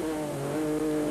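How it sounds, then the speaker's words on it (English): A rally car engine in the 2001 Dakar Rally holds a high, steady revving drone, recorded on board, loud and close, with no pause across the short stretch. "You can hear the engine revs on board with our microphone."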